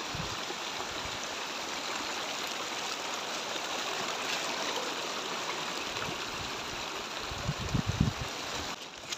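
A mountain stream near Ganesh Himal flows in a steady, soft rushing wash that stays even throughout, with a few faint low knocks near the end.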